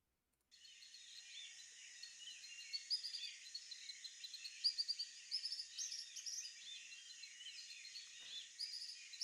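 Bird calls play back from a video during a game stream, a steady band of chirps and trills that starts abruptly and continues throughout, fairly faint and with no talk over it.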